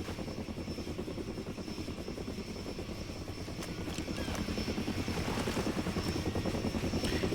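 A stationary helicopter in the video game Far Cry Instincts Predator thrums with fast rotor chop, a steady pulsing drone that grows slightly louder toward the end.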